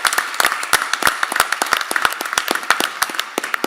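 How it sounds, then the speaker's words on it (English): Audience applause at a school district board meeting: a steady burst of brisk clapping from a modest crowd, dense and sharp, lasting a few seconds with no speech. "Let's give them a round of applause."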